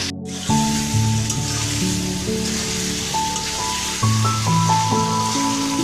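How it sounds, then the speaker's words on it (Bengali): Chicken skin and feet fry with spices in oil, giving a steady, even sizzle at moderate volume; a faint tonal hum plays beneath it throughout. "গরম মশলার গুঁড়ো দিয়ে এভাবে কিছুক্ষণ ভেজে নেব।"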